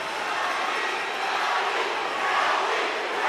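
A large crowd at an MMA fight roars in a dense, sustained wash of cheering and yelling that swells slightly toward the end, with no single voices standing out.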